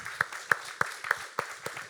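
Church congregation applauding, a sparse, rhythmic clapping of a few sharp claps at a steady pace, fairly faint and without talk.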